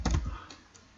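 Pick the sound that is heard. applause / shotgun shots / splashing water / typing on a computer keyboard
typing on a computer keyboard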